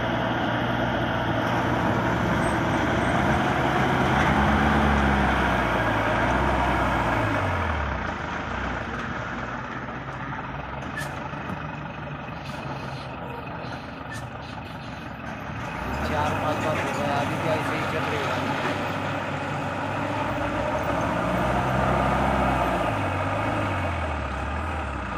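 A TATA 709 truck labors up a mountain ghat road, its engine droning loudly and steadily with pitch swells as it strains, while people talk over the noise.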